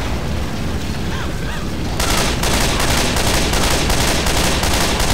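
Heavy gunfire in Left 4 Dead 2, a loud, dense continuous barrage that grows into rapid repeated bursts of shots partway through.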